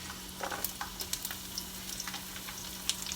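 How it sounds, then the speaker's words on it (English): Chopped onions sauté in hot vegetable oil in a pan, a steady soft sizzle broken by scattered crackles and pops, close and continuous with no voices. "So I'm going to go ahead and saute my onions in here."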